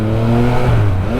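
A loud, close scooter engine revs up with a rising whine, the small motor accelerating briefly.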